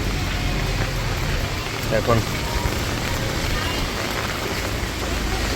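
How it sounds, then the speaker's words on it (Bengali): Steady rain falls on a street in Al Satwa, Dubai, a continuous wash of hiss with a brief louder patter in the middle, while someone talks over it. "বৃষ্টি বৃষ্টি বৃষ্টি বৃষ্টি বৃষ্টি।"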